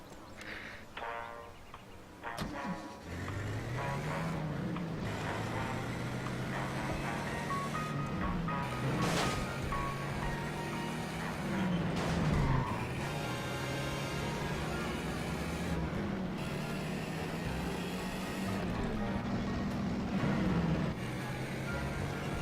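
A Pegasus car drives through the streets in The Saboteur video game, its engine a steady, droning hum that rises and falls as it speeds up and shifts, loud and continuous over faint background game sounds.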